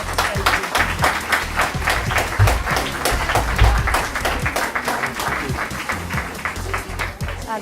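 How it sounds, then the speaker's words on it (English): Audience at a community participatory budgeting event in Higher Folds giving a long, loud round of applause, dense steady clapping from many hands that lasts throughout and swells slightly midway, with no voices heard over it. "I think that you need to give yourselves a big round of applause"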